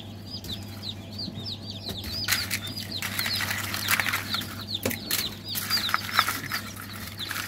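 Newly hatched chicks cheep in rapid high peeps while farm chickens cluck and flap nearby, a busy close chorus of chirping over a low steady hum, with no one speaking.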